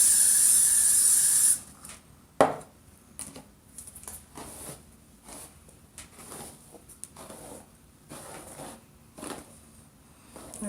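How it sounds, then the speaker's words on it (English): Hairspray hisses from an aerosol can onto a wig in a sharp, loud burst lasting over a second, followed by quieter brushing and handling sounds. "spray it"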